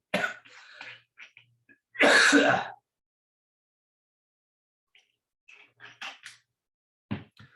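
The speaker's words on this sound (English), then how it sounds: "Having a whole coughing thing." A person coughs and clears their throat: a few rough hacks, one loud harsh cough, then quieter throat-clearing rasps after a pause, close by.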